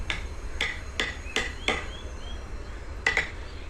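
Sharp, distinct taps on wood while a snake-style carved design is cut, about seven isolated blows at irregular intervals, close, over a quiet background hum.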